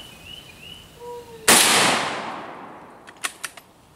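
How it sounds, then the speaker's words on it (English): Gunfire from a .223 rifle and a .22 LR rifle aimed at a busted computer mouse outdoors, one loud close blast with a long rolling echo, then three quick fainter pops shortly after. "You shot at the same time?"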